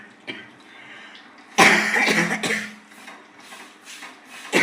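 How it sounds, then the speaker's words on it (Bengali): A person with a lingering cough coughs in a quiet room, a loud, rough cluster of harsh bursts lasting about a second, then fainter throaty sounds afterward. "দেড় মাস ধরে কাশি হচ্ছে, ওষুধ খাচ্ছি, তাও কমছে না।"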